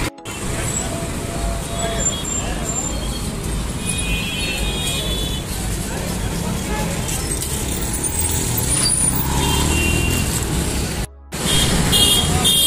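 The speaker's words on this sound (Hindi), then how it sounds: "यहाँ पर काफ़ी ज़्यादा ट्रैफिक है।" Busy street traffic at Jalori Gate in Jodhpur forms a dense, continuous roar of engines, with occasional horn toots and passing vehicles close by.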